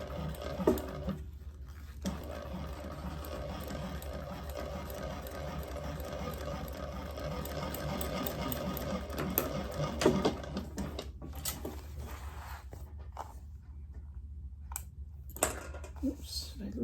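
A sewing machine runs steadily while stitching a clamshell sling, giving a close, continuous mechanical patter with brief pauses. A person talks over it now and then.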